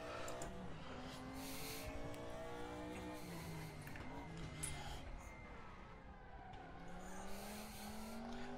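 A 1992 DTM touring race car with a 460-horsepower engine howls through gear changes in the RaceRoom racing game, its pitch climbing and dropping in repeated sweeps with brief tyre squeal, continuous and fairly quiet.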